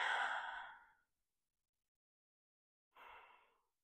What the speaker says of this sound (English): Take a few long deep breaths here.